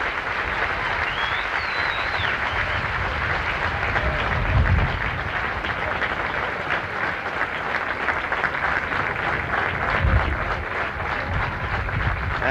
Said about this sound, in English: they're applauding him all the way to the scorer's tent